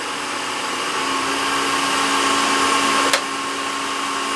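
A lathe cuts at about 1500 RPM, taking slightly bigger cuts at moderate speed. It gives a steady, loud motor whir with a constant hum throughout and one sharp click near the end.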